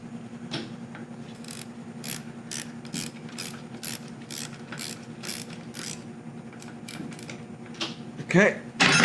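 Rapid ratchet clicks in repeated bursts while a bolt is loosened on a Haas VF2 spindle gearbox, close and crisp over a steady machine-shop hum, ending with a louder clatter, no clear talking.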